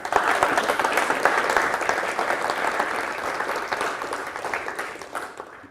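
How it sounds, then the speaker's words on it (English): Audience applause rings out at the close of a university mathematics lecture on algebraic K-theory, a dense sustained clapping from a seated crowd that stays loud throughout before gradually thinning toward the end. "I like how there's this sense that you should clap quickly before I continue to say things"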